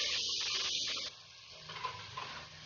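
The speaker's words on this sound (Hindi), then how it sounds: "इसमें डालेंगे हम जो हमारे पास टमाटर था वो टमाटर डालेंगे" Tomatoes drop into a hot pan of aloo matar, giving a steady hiss and sizzle with a few stirring scrapes, close and fairly quiet, with no voices.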